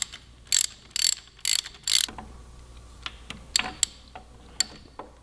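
Bursts of sharp ratchet clicking as block off plate bolts are run down evenly on a 2017 Yamaha R6, four loud rapid strokes close up, then scattered lighter ticks and pauses.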